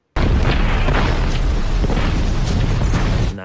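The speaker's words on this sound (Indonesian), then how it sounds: "Terjadilah ledakan." A loud animated-film explosion from an underwater scene, a sustained dense roaring blast lasting about three seconds before cutting off.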